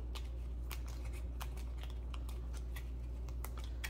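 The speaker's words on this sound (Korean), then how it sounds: "그럴 때는 이 버린 카드 더미를 가져와서 잘 섞어주고" The discard pile of cards in the El Dorado board game is gathered and shuffled by hand, producing a steady series of crisp, close card snaps and flicks for about four seconds.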